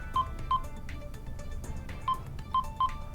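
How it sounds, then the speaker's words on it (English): A Just5 mobile phone plays short electronic beeping tones, separate keypad-style blips at irregular intervals over a faint background hiss. "Gives you nice little ringtones, little notifications letting you know things have been"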